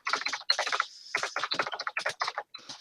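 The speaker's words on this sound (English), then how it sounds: "You can hear me typing." Quick bursts of keystrokes clatter on a computer keyboard while a tweet is typed, close and fairly quiet, with brief pauses between runs of clicks.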